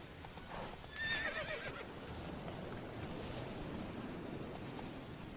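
A horse in The Witcher 3 gives a loud, shrill neigh near the start, then galloping hooves clip-clop steadily over a constant windy, surf-like ambience, with no talking.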